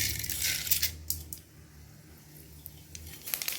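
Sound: mustard seeds added to hot oil in a pan

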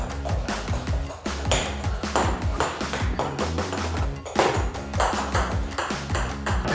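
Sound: ping pong ball bouncing during beer pong

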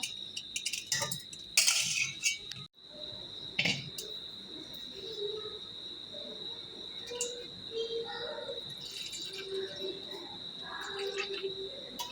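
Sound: crickets chirping

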